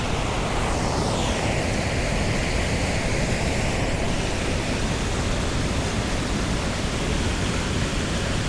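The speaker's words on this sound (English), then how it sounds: "a big one churning water coming through there" A big cascade after heavy rain on the Sellas water route pours churning water in a loud, steady roar that fills the whole stretch with no pause and no voices.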